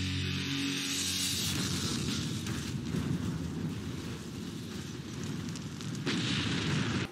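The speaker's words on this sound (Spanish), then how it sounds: "Aquí Ran hace un salto al estilo Toreto, esto para evitar que dicha explosión acabe con él." A loud video game explosion erupts into a long, roaring rumble that churns on for several seconds, with a fresh surge of blast noise near the end.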